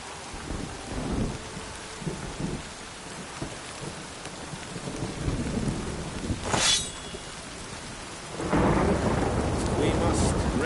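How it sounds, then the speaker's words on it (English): Thunderstorm with heavy rain in The Witcher 3, steady loud downpour with rolling thunder rumbles and a sharp crack near the middle, rain surging louder toward the end. "A storm, damn it."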